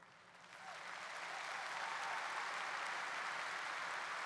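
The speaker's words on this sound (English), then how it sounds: "keep the applause going" An audience claps during a talk at the Made for Happiness Assembly, a dense, steady wash of many hands that swells over the first second and then holds loud and even to the end, with no voices over it.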